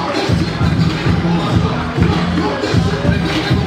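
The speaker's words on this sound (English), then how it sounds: "The crowd is going wild." Crowd roaring after a fight win, a loud continuous mass of voices and cheers close by, with a general rumble and shuffling underneath and no clear single speaker.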